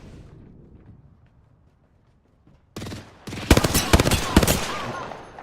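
Rapid automatic gunfire in a shooter video game, a loud sustained burst of shots that starts abruptly after a quiet stretch and continues to the end, with no talking.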